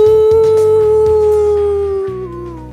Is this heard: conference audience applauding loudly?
no